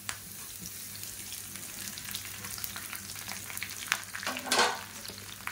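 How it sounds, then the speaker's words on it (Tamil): Curry leaves fry in hot oil in a kadai with a steady crackling sizzle, then a louder burst of spattering near the end, close and without talk. "இது வந்து நல்லா அப்படியே முறுமுறுன்னு பொரிச்சு எடுத்துக்கலாம்"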